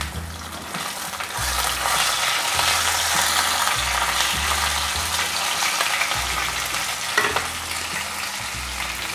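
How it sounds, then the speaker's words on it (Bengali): Rui fish frying in hot oil for a rui and cauliflower curry: a dense, steady sizzle and crackle lasting throughout, close and fairly loud, with a low tonal hum underneath. "মাছগুলো একটু লালচে করে ভেজে নিতে হবে"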